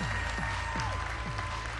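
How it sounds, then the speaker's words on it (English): A crowd at the BlackBerry 10 launch event claps in sustained, dense applause, a steady wash of hand claps with faint tonal sounds drifting underneath. "Let's give him a round of applause"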